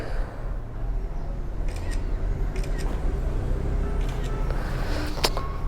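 A camera shutter clicks several times inside a motorcycle showroom, short crisp snaps spaced a second or so apart over a steady low room hum.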